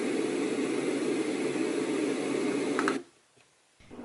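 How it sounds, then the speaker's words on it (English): A LATME white noise machine gives off a steady, even hiss for about three seconds. The hiss then cuts off abruptly, leaving near silence and a faint click. "And then to the right here is the white noise button."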